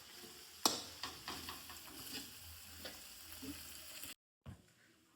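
Green turmeric with green chili paste stirs and roasts in a pan, giving a faint steady sizzle with soft scraping stirs and a sharp clack at the start, then a brief silence.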